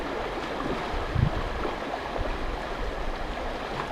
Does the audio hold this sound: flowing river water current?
yes